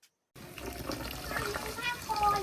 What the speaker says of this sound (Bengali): চাল ধোয়া হচ্ছে